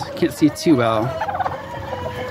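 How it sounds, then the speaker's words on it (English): Chickens of different breeds, including roosters, cluck and squawk close by in a few quick, throaty bursts, with a person briefly speaking over them. "Chickens in there with her, a couple different roosters as well."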